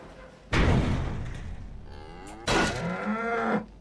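A hostile cow moos loudly in the survival game 7 Days to Die, Alpha 20.6 joke mod, two long bellowing calls close up, the second with a clear tonal drone, separated by a quieter pause.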